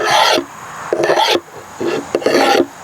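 A common metal file rasps along a knife blade in four short, gritty strokes with brief pauses between them, close and fairly loud.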